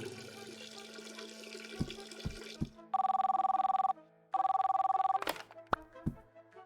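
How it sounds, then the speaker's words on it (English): A desk telephone rings in the game Mindlock The Apartment, two long electronic ring bursts separated by a short pause, following some running water and clicks, fairly loud and alone. "The phone at my desk should ring now."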